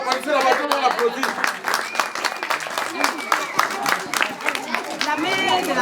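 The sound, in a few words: audience applauding at a school awards ceremony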